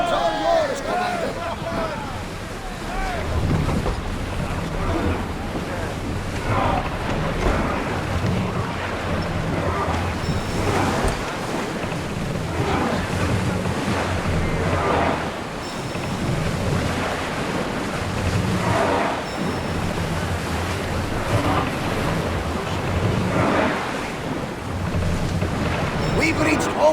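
A sailing ship moves through open sea in Assassin's Creed Odyssey, with steady wind and wave wash throughout and people talking over it.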